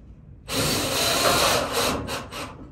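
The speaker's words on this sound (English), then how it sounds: "take our screws, run them directly through," A power driver runs screws through a panel and a line of butyl tape in one sustained, loud grinding whir lasting a couple of seconds, trailing off in a few short bursts.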